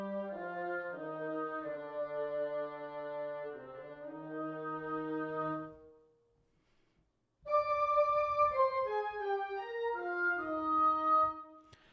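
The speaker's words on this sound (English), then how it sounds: "Now they've done oboe and bassoon octaves" Sampled oboe and bassoon playing in octaves with a legato orchestral library patch, smooth connected notes in a slow phrase, a brief silence, then a second, higher phrase.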